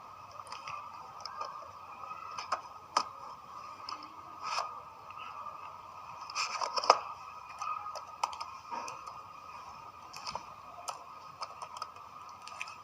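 Computer keyboard typing while entering Node.js code, a string of light irregular key clicks with occasional firmer taps, close and fairly quiet, with no voices.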